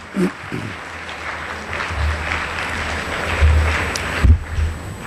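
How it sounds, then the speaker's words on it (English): Banquet audience applauding academic award recipients, a steady wash of clapping with a few louder nearby bursts and low thumps, no talk over it. "How about a round of applause for all the academic award recipients, please?"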